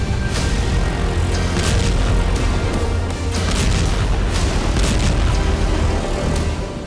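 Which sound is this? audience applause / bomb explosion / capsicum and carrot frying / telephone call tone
bomb explosion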